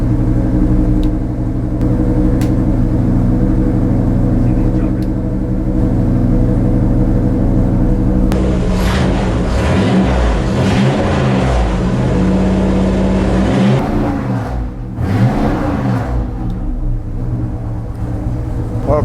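A classic car engine rumbles loudly at close range, holding a steady idle before being revved up hard in rising and falling surges, then settling back down.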